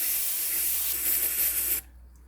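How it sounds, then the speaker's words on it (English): An aerosol can of brake and clutch cleaner sprays in one steady, loud, close hiss lasting nearly two seconds, then cuts off abruptly. "Now, I use this brake and clutch cleaner."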